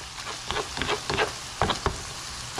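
Ground beef browning in a pan for beef stroganoff gives a soft, quiet sizzle broken by a few scraping stirs at irregular intervals.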